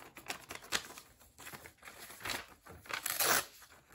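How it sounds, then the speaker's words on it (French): Close, crisp crinkling as a large sheet of paper is cut and torn, with irregular rustles and a longer rip near the end; no voices. "bon là je vais le couper parce qu'il est un peu grand. C'est un grand papier."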